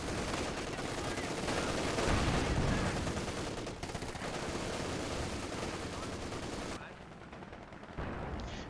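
Dense gunfire and explosions roar through a Company of Heroes 2 battle involving tanks, anti-tank guns and infantry, with sustained loud machine-gun and shell fire that thins briefly near the end.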